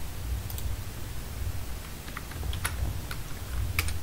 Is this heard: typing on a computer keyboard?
yes